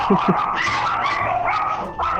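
Several household dogs bark in a few quick, sharp yips near the start, then mix with whimpering and a steady din of close, busy background noise.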